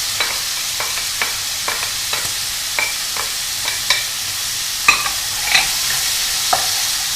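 Lardons, carrots and onions sizzle in a pan over high heat, a spoon scraping and stirring them in quick repeated strokes above a steady soft frying hiss.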